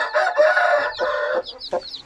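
A hen clucks in low, throaty bursts close by while newly hatched chicks give high, thin peeps at the end, all loud and near.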